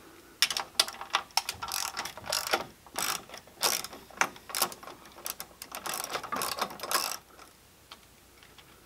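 A socket wrench loosening screws beneath a Stranger Things pinball machine playfield, with rapid ratcheting clicks in bursts and pauses, close and fairly quiet, no voices.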